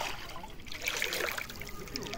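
Water trickles and splashes in a small flow at a riverside campsite near Shivpuri, Rishikesh, a faint bright dribbling sound with low background noise.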